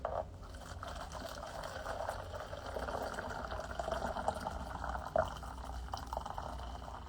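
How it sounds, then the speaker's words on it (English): Hot water poured carefully into a bowl for a kitchen science demonstration, a steady close trickle and splash running for several seconds with no voices. "I'm going to pour it out carefully."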